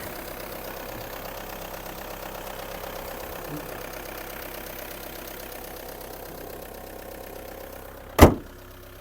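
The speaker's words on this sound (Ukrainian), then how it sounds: "Робота дизеля" A Skoda Fabia 1.6 diesel engine idles steadily under an open hood, a continuous close rumble with a sharp, loud knock or clack near the end.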